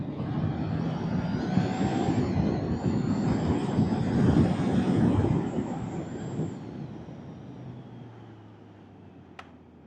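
Triumph Trident 660 motorcycle engine revving hard as it accelerates, a loud sustained roar that climbs and holds for several seconds before easing off and fading as the bike pulls away.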